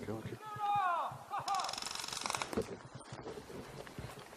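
Airsoft gun firing in full-auto on a path during an airsoft game outdoors, heard as a dense rattling burst of rapid shots in the middle, with excited voices talking before and around it.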